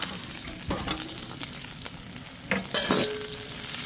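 Garlic, onion and ginger sizzling in hot oil for chicken adobo, a constant close frying hiss broken by several sharp spatula scrapes and clinks, with no talking.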